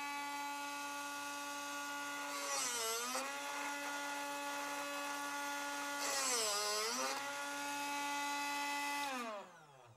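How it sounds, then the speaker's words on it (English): A steady high-pitched motor whine from a Drill Doctor drill bit sharpener, with a harsh grinding rasp that swells twice, then the motor winds down and stops at the end. "That's all there is to sharpening bits with Drill Doctor."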